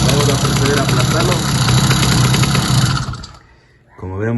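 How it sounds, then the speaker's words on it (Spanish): A motorized bicycle's small engine idles with a loud, steady rattling chug, then cuts out and falls quiet before a voice begins speaking. "Como vemos, ya se apaga lo que es el motor"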